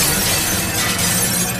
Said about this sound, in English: I grabbed it and began smashing the window.